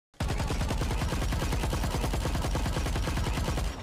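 The Arcane Vandal rifle firing in Valorant, an unbroken fast automatic burst of evenly spaced, loud, close shots lasting several seconds, alone with no talk.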